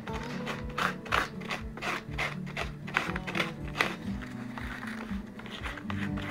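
A small piece of sandpaper rubbed back and forth over a new stamp, producing a quick, even rhythm of scratchy strokes, close and clear with no talking.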